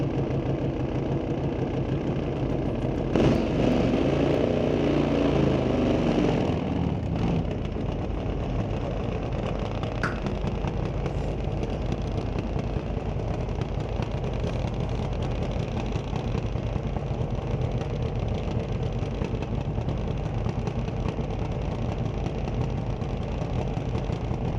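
A drag racing car rumbles loud and close at an NHRA race at Mission Raceway, a steady heavy engine drone with a brief throttle swell early on.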